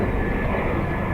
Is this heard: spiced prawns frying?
no